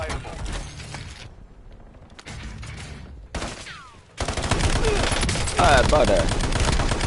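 Gunfire in Call of Duty: Warzone, with sniper shots and bursts of automatic fire cutting in and out, growing denser and louder toward the end, while a player speaks briefly.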